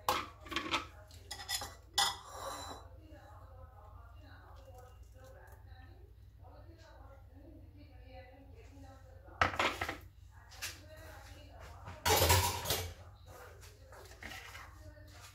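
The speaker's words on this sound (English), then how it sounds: "I'll just scrape down whatever is left in the mixie." A utensil scrapes coconut chutney from a mixer jar into a bowl, giving a few quiet clinks and then louder scraping bursts later on. Someone speaks softly throughout.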